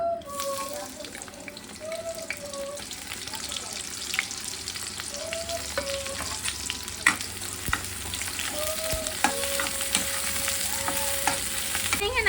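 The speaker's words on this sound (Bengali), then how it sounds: "এতিয়া মই দিম পিঁয়াজখিনি পিঁয়াজখিনি দিওঁ" Onions sizzle in hot oil in a home kitchen, a steady crackling fry with stirring scrapes and occasional water clinks, a voice speaking now and then in the background.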